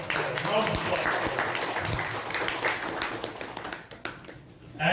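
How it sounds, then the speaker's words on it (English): A room full of people applauds steadily, a dense patter of clapping that fades out near the end. "Let us have a round of applause."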